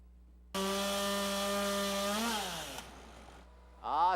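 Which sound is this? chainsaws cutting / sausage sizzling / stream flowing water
chainsaws cutting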